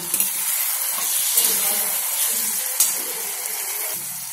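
Spices for spicy chili paneer, with sugar and salt, are stirred in a sizzling pan, giving a steady frying hiss with soft scraping strokes throughout.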